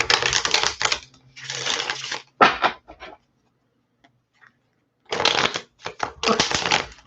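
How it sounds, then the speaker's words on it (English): Cards are shuffled in quick riffling bursts, a pause of near silence, then more shuffling and snapping of the deck, close and crisp. "Sometimes my deck does not shuffle right."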